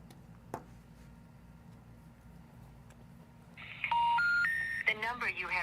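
A telephone number is dialed on a touch-tone keypad: after a quiet stretch with faint background hum, a rapid run of distinct beeping key tones plays, clear and close.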